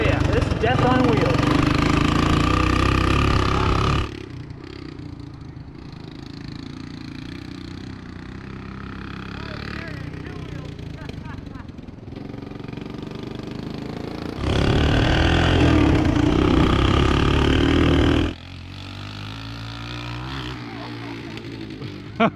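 An old, cheap Honda three-wheeler ATV being ridden in first gear, its small engine buzzing loudly in two strong bursts separated by a quieter idling stretch, with people talking over it.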